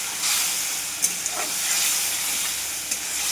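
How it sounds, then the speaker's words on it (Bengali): Masala paste with salt, turmeric, Kashmiri chilli powder and ground cumin fries in a pan with a steady close hiss and sizzle, broken by a few light stirring clicks. "এবার ভালো করে কষে নেবো মশলাটা"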